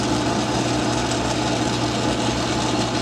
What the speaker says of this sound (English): That's actually slowing the lathe down enough to make the belt slip.